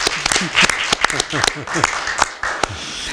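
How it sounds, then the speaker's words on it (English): Scattered hand claps from a small audience at a city commission meeting honouring library supporters, sparse and uneven, mixed with people talking over them. "give them a little applause?"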